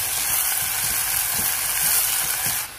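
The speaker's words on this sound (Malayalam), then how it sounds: "ഇനിയാണ് ഞാൻ ഇതിലേക്ക് കറിവേപ്പില ഇട്ട് കൊടുക്കുന്നത്. അവനും കിടന്നൊന്ന് മൂക്കട്ടെ." Curry leaves crackling in a pan with onion and ginger-garlic paste for a potato curry, a dense, loud, continuous sizzle close up that cuts off abruptly at the end.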